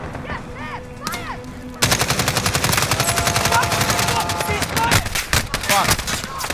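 Rapid automatic gunfire bursts out loud and close in the Modern Warfare video game, long sustained rattling volleys after a brief quieter start, with shouted voices mixed in.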